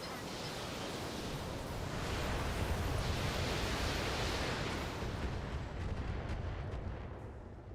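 Missile barrage firing in the BattleTech video game, a dense continuous roar of rocket launches and blasts that swells in the middle and slowly tapers off, loud and without talk.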